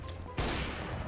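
A burst of gunfire in the video game CS:GO: a sudden loud shot crack, followed by a sustained noisy wash of firing and echo.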